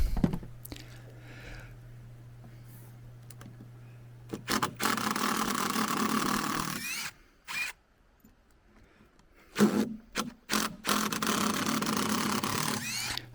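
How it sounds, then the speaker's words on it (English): A drill's torque bit spinning without grip in a stripped deck screw head on a weathered wooden deck, heard as two loud bursts of whirring with a short pause between them, preceded by a quieter steady hum. "The torque bit is just spinning in the head."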